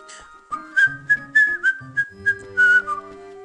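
A person whistles a short, uneven tune of about ten notes over a quiet background of low held game-music tones.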